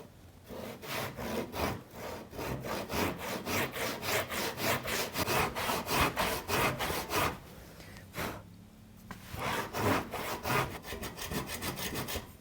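A hand saw cuts a dado across a wooden board, its steady back-and-forth rasping strokes loud and close, pausing briefly before resuming the rhythmic cutting.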